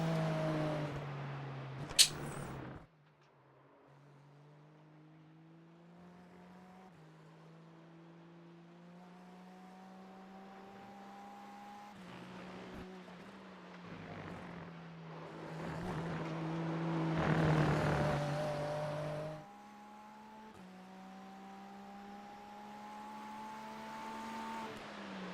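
GT3 race car engines in iRacing, a quiet droning whine that climbs and drops through gear changes, with a short sharp burst near the start and a louder pass midway.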